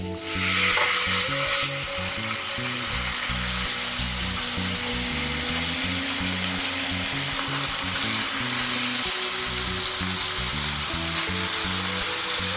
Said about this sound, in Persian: تمیزش بکنید و بعد منتقل کنید به تابه‌ای که کاملا داغ شده باشه